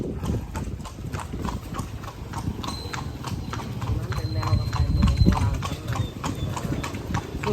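Horse hooves clip-clop in a steady rhythm as a horse pulls a carriage through the town of Lampang, Thailand, close and continuous with background street noise and a faint high tone.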